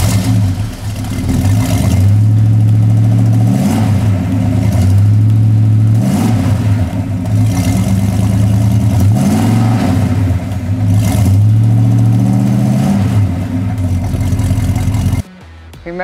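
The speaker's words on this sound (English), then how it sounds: "the real music is turning on this 340 cubic inch V8 engine, lighting it up" A 1971 Dodge Demon's 340 cubic inch V8 revving repeatedly, a loud close rumbling idle that swells into several throaty rises and falls before cutting off abruptly near the end.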